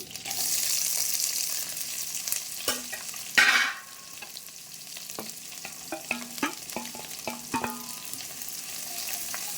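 Onions and curry leaves sizzle steadily in hot oil in a pan while cooking an amaranth-leaf fry, broken by sharp clinks and scrapes of stirring, with a brief louder splash of sizzle midway, close and clear.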